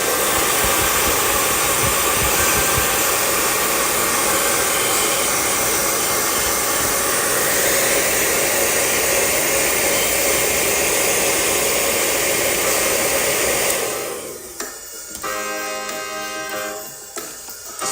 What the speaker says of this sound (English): I'm gonna hit it with the hairdryer real quick.